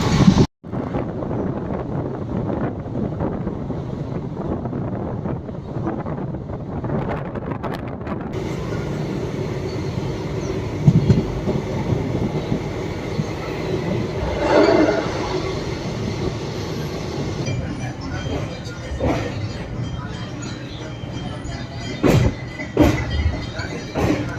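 Passenger train 06642 on the Tirunelveli–Kanniyakumari line runs toward Nagercoil Junction, a continuous rolling rumble of carriages heard from on board with heavy wind buffeting the microphone and occasional sharper knocks.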